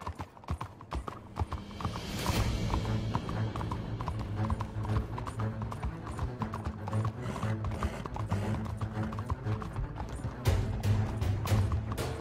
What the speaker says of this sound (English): Stop the fucking horse and get off.